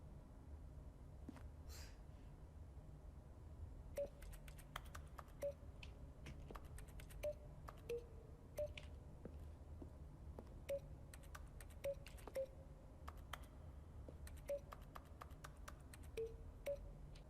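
Clicky buttons in The Stanley Parable video game are pressed repeatedly, each press a sharp click with a short electronic beep, spaced irregularly over a faint steady hum.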